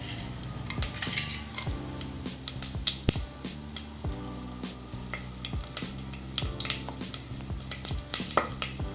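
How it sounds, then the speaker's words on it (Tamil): Whole spices tempering in hot oil and ghee for mushroom pulao, with steady frying sizzle under frequent metallic clinks and scrapes of a ladle against the pan, close and busy throughout. "எண்ணெய் நல்லா சூடானோன்னே அதில் தாளிக்கிறதுக்கான எல்லாத்தையும் போட்டுடலாம்."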